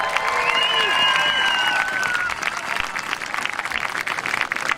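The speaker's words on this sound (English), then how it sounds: "a little round of applause for Mr." A crowd at a school marching band community night applauds and cheers, with dense clapping throughout and a few high whoops and whistles early that fade after the first couple of seconds, fairly loud and close.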